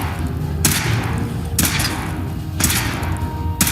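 Weapon fired during a power armor test in the Fallout 4 video game, four sharp evenly spaced cracks roughly a second apart, loud and close over a low steady background hum.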